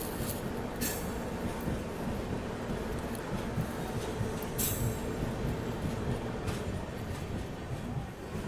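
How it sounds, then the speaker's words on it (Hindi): The Mahanagari Express runs on a parallel line near Mumbai, giving a steady, loud roar of rolling wheels and wagons with a few sharp metallic clanks, with no voices. "मुझे महानगरी एक्सप्रेस से हमारी वापस से मुलाकात हुई है"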